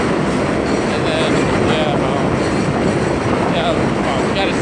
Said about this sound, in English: as you can see, the train is really, really loud